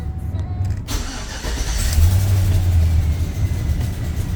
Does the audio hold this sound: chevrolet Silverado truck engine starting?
yes